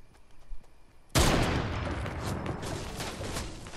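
Gunfire in a Fortnite match opens with a sudden loud blast after a short quiet stretch, followed by a ringing, decaying volley of further shots that stays fairly loud to the end.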